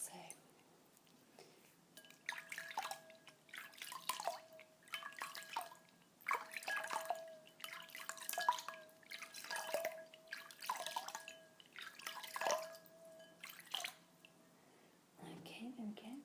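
Water dripping from a make-up sponge into a small container, a series of soft close drips repeating irregularly under quiet whispering.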